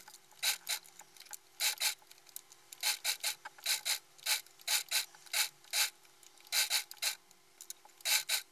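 A sewing machine stitches around a beginner's bell sleeve blouse, running in short, even bursts of rapid mechanical whirring separated by brief pauses, close and steady with no talking.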